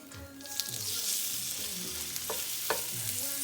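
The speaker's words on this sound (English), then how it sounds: "you always want to hear a sizzle when you're cooking or sauteing meat" Steak pieces frying in a hot oiled pan for street tacos give a bright, steady close sizzle, with a few soft spatula stirs and scrapes breaking through.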